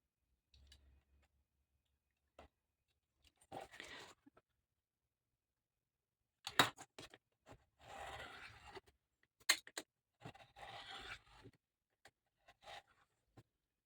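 Paper being cut for a handmade mini desk calendar, a quiet run of scattered clicks and short scraping bursts, several separate strokes with gaps of near silence between them.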